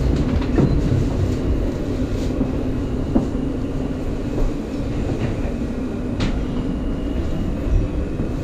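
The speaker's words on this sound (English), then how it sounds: "Broad Street bound J local train." A NYC subway J local train at Chambers Street rumbles loudly and steadily along the track, wheels clicking and rattling with a faint metallic squeal.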